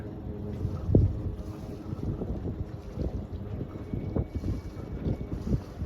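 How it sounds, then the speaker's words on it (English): Wind buffets a boat as it docks at a slip, a steady rumbling gust noise against the microphone with low thumps and water movement, close and continuous. "A bit of wind's going to push me up in."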